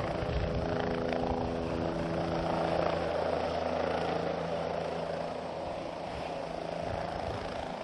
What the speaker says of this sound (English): Now the helicopter just starts